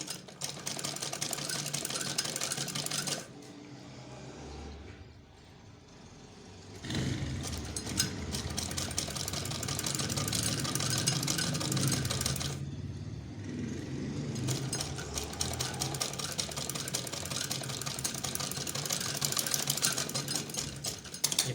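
A sewing machine stitches piping onto a frock sleeve in a fast, steady whir. It runs in long stretches, pauses briefly twice, and stays close and prominent with no talk.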